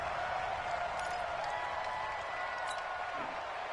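A football stadium crowd in a PS4 game roars as a steady, dense wash of cheering and faint clapping, constant and distant throughout.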